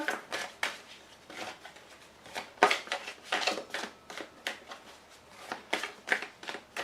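Playing cards are shuffled and drawn during a card reading, giving repeated short riffling and snapping bursts in an irregular rhythm, close and fairly crisp, with no speech.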